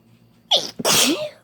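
A woman lets out one big, wet, explosive sneeze, close and loud after a quick sharp intake, alone with no talk.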